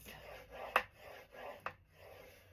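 A scoring tool runs along paper for a pocket journaling page in slow, soft scraping strokes, with two sharp clicks or snaps standing out between them.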